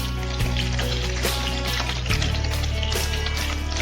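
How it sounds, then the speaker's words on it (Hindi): Panch phoron and chopped green chilies sizzle and crackle steadily in hot oil in a pan, a loud, close, continuous frying hiss with small pops and the odd stirring clink. "अब देखिए मैं इसमें पचफोड़न डालूंगी और ग्रीन चिलीज डालूंगी जो हमने काट के रखी हुई थी।"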